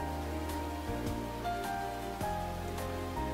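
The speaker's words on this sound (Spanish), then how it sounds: "solo los sonidos del gorgoteo del río y la lluvia golpeando la superficie del agua sonaban" Rain striking the surface of water beside a gurgling river in a visual novel game scene, a soft steady patter over low stepped tones and music-like drones, faint and continuous.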